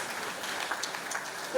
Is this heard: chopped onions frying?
no